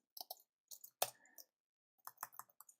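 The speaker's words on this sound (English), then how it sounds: "having a hard time typing today." Keystrokes on a computer keyboard while coding Ruby on Rails ERB templates, coming in short quiet bursts of clicks with a louder single tap in the middle and pauses between.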